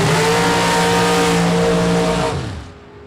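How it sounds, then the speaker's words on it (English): A race car engine at a drag race drones loudly with its throttle held, then the tone drops away and the sound fades out near the end. No voices are heard. "Little throttle work down there. You hear the womp womp."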